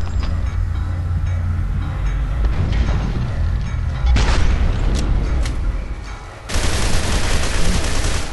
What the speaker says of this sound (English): No, you are lasering me.